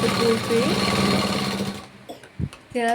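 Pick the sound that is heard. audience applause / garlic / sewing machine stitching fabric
sewing machine stitching fabric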